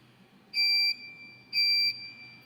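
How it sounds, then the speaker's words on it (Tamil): A shrill electronic empty-tank alarm on a wireless water level indicator beeps twice, each tone about half a second long, loud and piercing against a low background hum. "Empty alarm."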